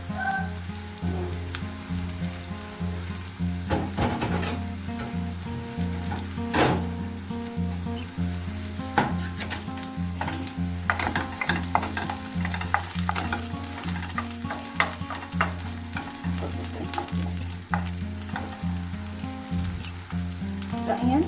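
Garlic and onion frying in olive oil in a pan, a steady loud sizzle with frequent scraping and stirring clatter from a utensil, continuous and close, with no talking.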